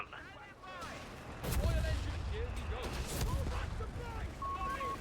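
Grenade blast and gunfire in Company of Heroes 3, a dull boom followed by scattered shots and rumbling battle noise, under a talking voice.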